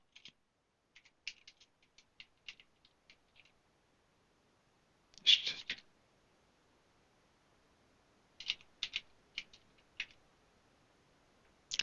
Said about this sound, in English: Typing during a demo, what could go wrong?